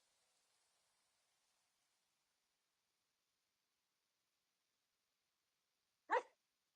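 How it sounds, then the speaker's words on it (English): A single dog bark, short and fairly loud, sounds alone after several seconds of near silence with only faint background hiss at the start. "I had no idea your dog actually barks now."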